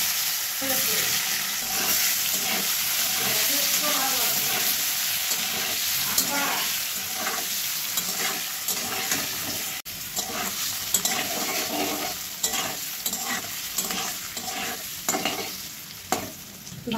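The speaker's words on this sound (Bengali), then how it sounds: "পনিরটা কেটে রেখেছি, এটা ভেজে নেব" Cut paneer sizzles in hot oil with salt and turmeric in a kadai, a constant crackling fry broken by scraping stirs of a spatula, close and fairly loud.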